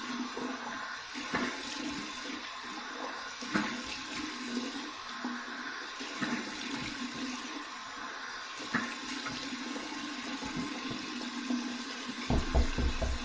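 Cold tap water runs steadily in a rinse after a wet shave with shave soap, a continuous, fairly close splashing hiss with no talking.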